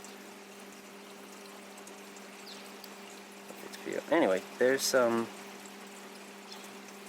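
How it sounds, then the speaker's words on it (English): Steady water trickles and flows through an NFT hydroponic growbed, a soft continuous wash under a faint electrical hum, while someone talks briefly over it near the end. "plenty of water flowing through,"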